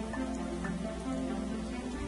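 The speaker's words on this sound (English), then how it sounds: "This rain is pretty ferocious," Rain falls in the video game Starbound as a dense, steady hiss of drops that holds evenly loud throughout, with nothing else standing out.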